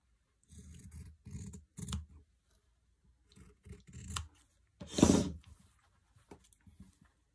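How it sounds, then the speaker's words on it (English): Scissors cut quilting fabric along a pencil line, heard as a series of about six short, close snipping bursts separated by brief pauses. "I'm going to cut on my pencil line."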